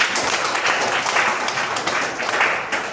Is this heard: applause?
yes